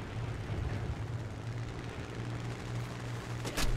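Gunfire in the War Thunder video game aimed at the player's aircraft: a steady, moderately faint rattle of shots under engine drone, ending in a louder burst.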